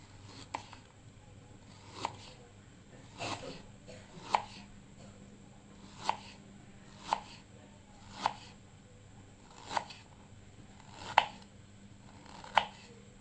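A knife slices fresh ginger into rounds on a cutting board, with about a dozen crisp, separate chops spaced at a slow, uneven pace. The cuts sound close and clear over a quiet background, and no one speaks.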